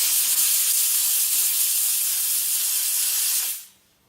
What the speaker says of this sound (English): So since it's steam, it doesn't really leave anything that wet afterwards either